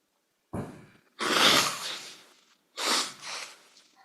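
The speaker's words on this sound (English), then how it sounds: "Excuse me for blowing my nose." A person blows their nose in two loud, close bursts with a short pause between them, no talking around it.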